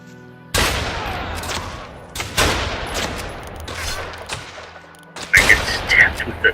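Bursts of gunfire from the online game Fallen Earth, several loud volleys of shots in quick succession with a short pause before a final louder cluster, with a voice talking over parts of it.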